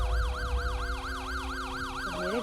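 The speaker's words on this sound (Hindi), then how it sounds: "ये एम्बुलेंस क्या कर रही है" Ambulance siren wailing at 3 a.m. outside a house, a loud, steady rising-and-falling electronic wail that repeats evenly over a low rumbling background, with the pitch shifting near the end.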